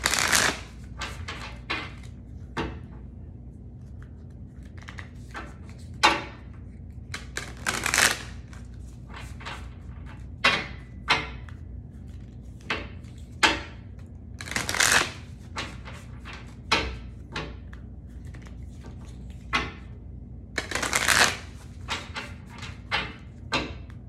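An oracle card deck is shuffled by hand, giving a series of quick crisp riffles and slaps spaced irregularly over a quiet room tone, close up and without talk.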